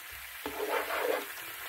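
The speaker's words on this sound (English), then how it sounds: "you're going to kind of saute these capers in this white wine reduction" Capers sizzling in a pan of white wine reduction, a soft, close frying hiss that starts abruptly and crackles on steadily with no talk.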